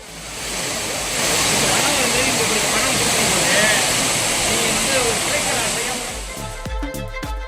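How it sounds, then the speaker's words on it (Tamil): Courtallam's waterfalls, including the main falls, Five Falls and Old Courtallam, pour heavily after days of continuous rain, a loud, steady broadband roar of rushing water that holds throughout, then breaks into choppy bursts of handling noise near the end. "தொடர் மழையால் மெயினருவி, ஐந்தருவி, பழைய குற்றாலம் உள்ளிட்ட அனைத்து அருவிகளிலும் தண்ணீர் வரத்து சீராக உள்ளது"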